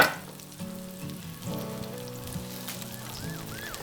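Tofu dropped into a hot pan sizzles and crackles steadily under soft background music, with a brief clatter at the start.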